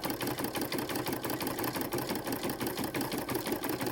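A Brother 770 or Janome 550e embroidery machine stitching a design onto a blanket, with a steady, fast mechanical needle rhythm and motor hum running continuously up close.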